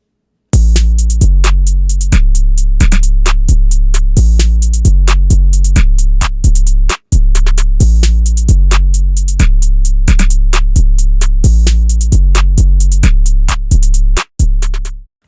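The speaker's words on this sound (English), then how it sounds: "So all together, the drums are gonna sound like this." Hip-hop drum pattern with long, booming 808 bass notes sustaining under punchy kicks and crisp hi-hats and snares, a steady loud loop with a brief dropout near the middle and a cut just before the end.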